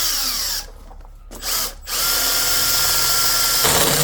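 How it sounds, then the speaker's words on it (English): A power drill fitted with a 3/4 inch hole saw runs loud and close, whining in two short bursts, then running steadily through the workpiece to the end. "I'm just going to use a 3/4 inch hole saw right here"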